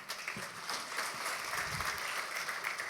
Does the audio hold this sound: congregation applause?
yes